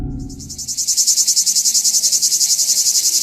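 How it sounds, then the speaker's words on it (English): Recorded cicadas buzz in a loud, rapid pulsing drone that holds steady for several seconds after a brief low rumble at the start. "Listening to recordings of cicadas, I wasn't convinced."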